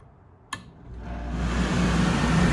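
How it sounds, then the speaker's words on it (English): A switch clicks sharply and the air conditioner in a remodeled race car trailer spins up, its steady broadband whoosh of blowing air swelling from quiet to a loud, constant roar nearby. "And if I want air condition,"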